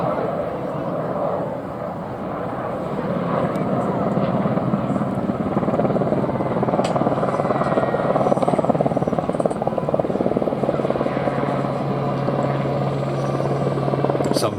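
A helicopter flies at an air festival, its rotor producing a steady, loud chopping drone that swells slightly midway, with a commentator's voice heard over it.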